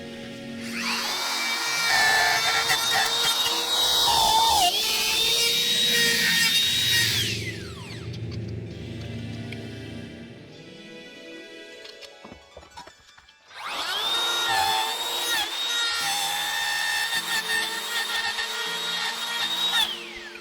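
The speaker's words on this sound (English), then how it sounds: "The router has a bearing on it there that lets me follow along here" A bearing-guided router cuts along the edge of the wooden body of an electric octave mandolin, a loud high whining screech that spins down in the middle, pauses, then starts up and cuts again.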